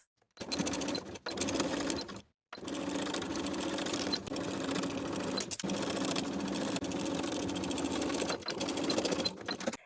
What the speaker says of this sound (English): Sew the curved edges of the pocket pieces together from seam line to seam line with a 5/8 inch seam allowance.